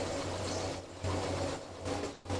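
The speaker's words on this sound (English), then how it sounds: "It's a sewing machine" A sewing machine running in the video game State of Decay, a steady low mechanical whirring hum that swells and dips in short bursts.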